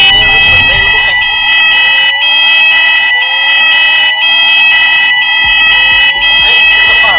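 A mall fire alarm shrieks very loudly nearby, with layered high tones and repeated rising sweeps that pulse on and off in short, regular breaks.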